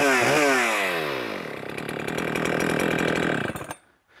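A Holzfforma G395XP chainsaw, a clone of the Husqvarna 395XP, starts up close and loud, rising to a steady high-revving drone with a rattling edge. It runs for about three seconds, then cuts out abruptly into near silence.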